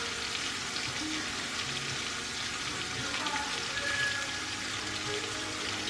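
Onions fry with country ribs in a hot pan, giving a steady loud sizzle and crackle close by that continues without pause.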